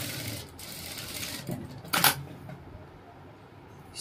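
A sewing machine runs briefly and quietly as a pinned dart is stitched on a dress, a soft hum broken by a sharp click near the middle. No voices are heard.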